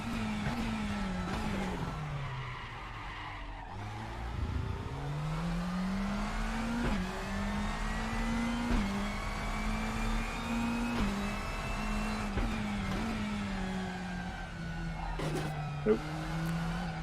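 Race car engine in RaceRoom, a DTM touring car, droning and shifting pitch as the back end slides into a hairpin, with brief tire squeal and revving throughout, loud and continuous.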